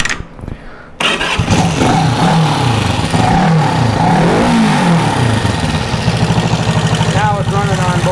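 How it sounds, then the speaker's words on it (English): A Honda CB360 motorcycle fitted with pod filters cranks and fires up after a brief quiet moment, then runs loudly close by with a steady, throbbing idle and short throttle blips. Speech is mixed in over the engine. "Let's go to the other side so I can run the throttle and hit the starter button."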